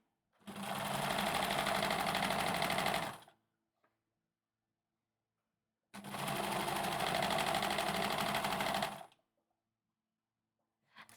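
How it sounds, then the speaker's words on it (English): A sewing machine stitching a chicken kigurumi onesie runs in two steady bursts of about three seconds each, separated by silence, close and fairly loud with an even mechanical whir. "because June and Panda mentioned the sewing machine sounds"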